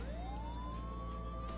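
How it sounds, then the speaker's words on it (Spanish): A police car siren switched on in the video game Contraband Police winds up in a smooth rising wail over a low, steady vehicle engine rumble. "Encender sirena."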